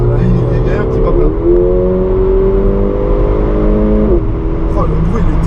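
A Mercedes A45 AMG accelerates at top speed, its engine droning loud and steady with a rising tone inside the cabin, while a person talks over it.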